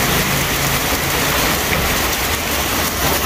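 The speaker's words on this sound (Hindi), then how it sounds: "बारिश लगी है" Heavy rain pours during a storm in Dadyal, Azad Kashmir, a dense, loud, continuous hiss with low rumbling underneath and no voices.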